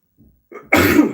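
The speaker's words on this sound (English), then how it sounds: "I think I'm about to start sneezing." A single loud sneeze up close, preceded by a couple of soft intakes of breath.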